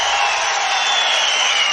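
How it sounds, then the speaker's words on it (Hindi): A crowd at a political rally in Doda claps loudly and continuously, a dense, even wash of hand claps with faint cheering mixed in, sustained for the whole moment. "मेराज मलिक साहब के लिए जोरदार ताली बजाते"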